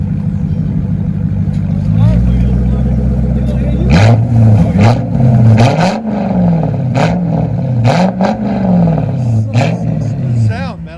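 A 1994 Lexus SC400 V8 with straight-pipe true dual exhaust idles, then revs hard several times, each blip rising and falling in a loud, close roar, while people talk over it.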